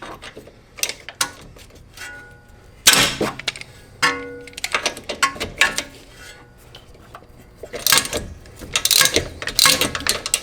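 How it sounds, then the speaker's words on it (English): A wrench works loose the top nut on a BMW E36 coilover knuckle mount, giving loud, irregular metallic clanks and ratcheting clicks in bursts with short pauses between them. "So I'm gonna start by loosening this top nut right here."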